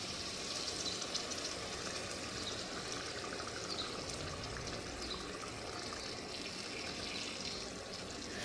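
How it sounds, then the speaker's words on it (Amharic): Water pours in a faint, steady continuous stream into a cooking pot while dirkosh is being prepared, with no speech. "አሁን እንግዲህ ውሃ እናደርጋለሁ ማለት ነው።"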